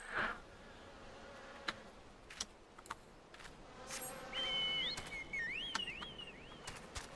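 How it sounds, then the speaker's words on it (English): A swarm of gnats buzzes in Final Fantasy XIV, a thin persistent whine with rising and falling tones drifting close by, mixed with faint game clicks and no talk. "I hate what those gnat swarms sounds they make. It's like a mosquito in my ear."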